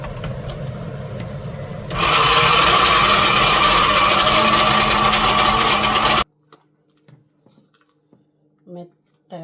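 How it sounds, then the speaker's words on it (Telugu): A mixer grinder grinds mint leaves, green chillies and spices into chutney, with a loud steady whirring roar for about four seconds that cuts off abruptly, followed by a few faint clicks and taps. "ఇప్పుడు దీంట్లో కొంచెంగా వేసుకుంటూ మళ్ళీ గ్రైండ్ చేసుకోవాలి"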